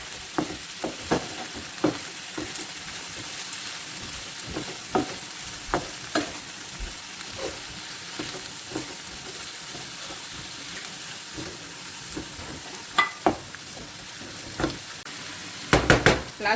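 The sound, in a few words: stirring yellow, red and green peppers in pan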